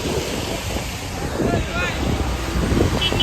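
Floodwater rushes past in a brief, broadband wash of noise, with wind buffeting the microphone and the surge swelling slightly toward the end.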